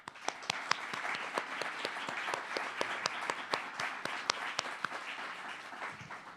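A room full of people applauds after a panel debate, steady dense clapping with several sharp individual claps standing out near the listener, sustained evenly for the whole stretch.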